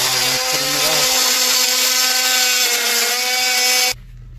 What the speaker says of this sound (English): Probably gonna have to use the receptacle saw. Yeah, to cut that out.